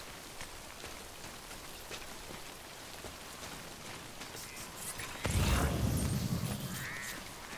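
Rain falls steadily in a video game, a continuous pattering hiss that swells into a louder, fuller downpour toward the end.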